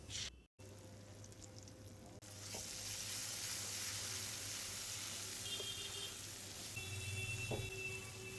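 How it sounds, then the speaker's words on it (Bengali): Masala paste sizzles and fries in a little mustard oil in a wok, a steady crackling hiss that swells louder after a short quieter start, with a few faint clinks. "ভাজা হয়ে গেলে ওই একই কড়ার মধ্যে অল্প একটু সর্ষে তেল দিয়ে পেস্টটা একটু কষিয়ে নিতে হবে।"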